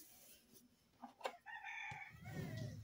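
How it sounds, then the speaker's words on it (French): A rooster crows once, short and faint, its drawn-out call rising above quiet room rustle before a soft scuffling noise follows. "Et le coq."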